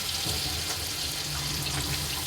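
Water runs or pours steadily into a pan of prawn spice paste made from coriander, ginger, cumin and chilli powder, a continuous close splashing wash without speech.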